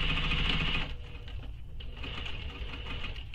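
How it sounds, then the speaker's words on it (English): Sewing machine stitching a fabric shoulder bag gives a steady mechanical hum with fine rapid ticking, louder at first and then easing to a slightly quieter run, with no voices. "So you wanna sew this with your exterior against the bed of the machine."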